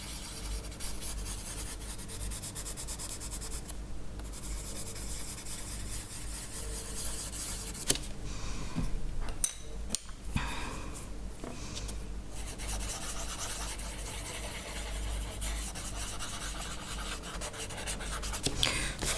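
Charcoal rubs and scratches steadily across colouring book paper, a continuous dry rasping texture up close with a few sharper strokes near the middle.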